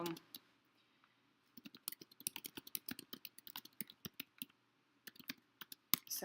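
Someone types on a computer keyboard in irregular bursts of close, crisp key clicks with short pauses between runs, alone in a quiet room.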